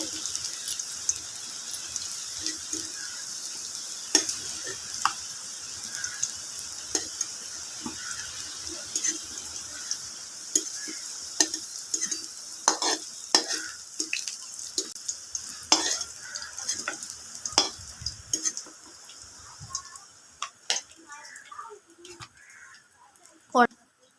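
Potatoes frying in oil in a pan for a soybean dhokar dalna: a faint, soft sizzle broken by scattered clicks and utensil taps, with a voice at times, before the frying dies away near the end.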